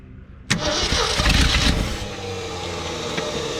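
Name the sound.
old Ford F100 truck engine cranking and starting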